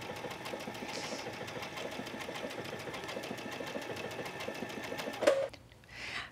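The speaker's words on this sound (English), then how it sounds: "as this stitches and it's doing my nice little rounded zigzag" A home sewing machine running steadily while stitching a rounded zigzag stitch on a poncho, a fast even mechanical whir and tick that stops abruptly near the end.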